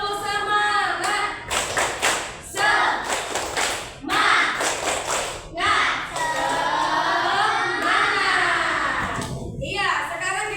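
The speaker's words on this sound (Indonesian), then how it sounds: "Sama-sama kita tepuk semangat dulu yuk." A primary school class performs the 'tepuk semangat' spirit-clapping routine, bursts of children's rhythmic claps and shouted chants coming in short groups, with a teacher's voice leading between them in a noisy classroom.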